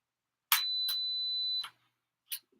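A loud, steady electronic beep from a camera during a battery change holds for about a second, with a few short clicks and a brief click-like burst after it.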